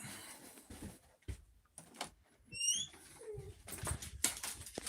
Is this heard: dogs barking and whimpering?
yes